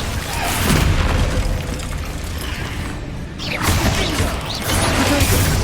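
Fire and explosion spells go off in the Hogwarts Legacy video game: loud, dense bursts of crackling, booming game effects with mechanical clanks, piling up continuously with a brief dip midway before another surge.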